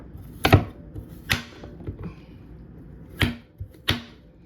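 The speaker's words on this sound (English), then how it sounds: "I'm just gonna go ahead and cut them all up like this in these small pieces." A knife cuts coconut into small pieces on a board, giving four sharp chopping knocks at irregular intervals with faint scraping between them and no talk.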